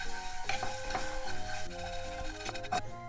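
Bonito flakes for homemade furikake stirred in sauce in a frying pan, giving a steady close scraping and soft sizzle with a few sharper knocks of the utensil against the pan.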